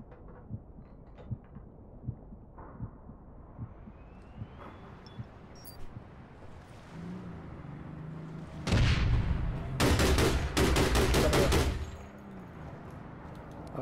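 Gunfire in the video game APB: quiet game ambience with faint clicks, then a loud burst of rapid automatic shots followed by a second sustained volley about ten seconds in, close and sharp, with no talk.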